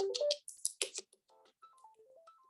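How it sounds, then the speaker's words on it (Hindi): A telephone rings during a lecture class with a melodic ringtone of stepped tones, rising and falling note by note, just after a few brief chirpy sounds. "एक मिनट में टेलीफोन।"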